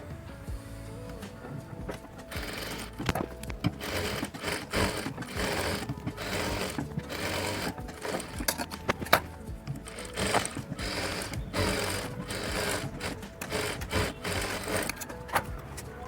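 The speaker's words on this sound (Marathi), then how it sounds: "आता आपण ह्या साईडने किनारी किनारी शिलाई मारून घेऊ दोन्ही पार्टला" A sewing machine runs continuous rapid stitches along the edges of two katori blouse pieces, with a steady mechanical chatter and brief pauses as the fabric is guided.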